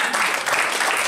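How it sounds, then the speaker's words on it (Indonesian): Congregation clapping hands in church, a short dense burst of applause filling the space at steady loudness with no individual claps standing out. "yang mau tepuk tangan buat Tuhan Yesus"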